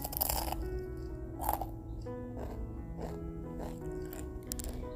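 Crunchy fried banana with melted chocolate bitten into up close, a loud crisp bite then another, followed by quieter chewing crunches.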